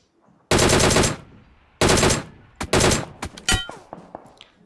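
Automatic weapons fire in a battle royale video game: two long, loud bursts, then a cluster of shorter shots that trail off into quieter single pops.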